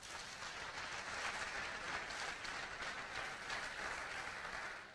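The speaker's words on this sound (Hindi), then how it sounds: "आपके लिए एक जोरदार तालियां होनी चाहिए।" Sustained applause from an audience, a dense steady wash of clapping with no voices, holding at an even level throughout.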